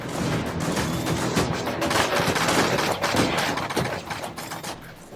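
Dense, rapid gunfire and blasts in VaultRaiders, a top-down bullet-hell shooter game with voxel art, layered into a steady, busy barrage throughout.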